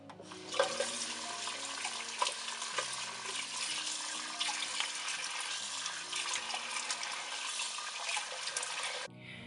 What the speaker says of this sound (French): Je rince à l'eau.